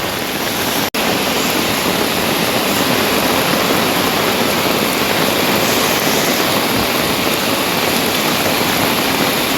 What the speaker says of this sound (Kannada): ಬಂಡ ಬರ್ಸ